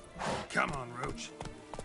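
Roach, a horse in The Witcher 3, gallops with hoof clip-clops under a man's close speech, and faint clatter trails after.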